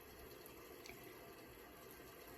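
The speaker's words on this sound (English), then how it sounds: "take in the sound of water running in the background here for a moment" Water runs steadily and faintly in the background as a continuous soft hiss and trickle, with no voices and no other sounds.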